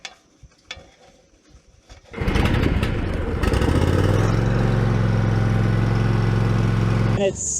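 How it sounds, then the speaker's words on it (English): A lawn mower engine on an overgrown homestead property starts up after some quiet handling noises, then runs loud and steady with a constant droning hum. "It seems like it's running now, so I'm gonna try to mow."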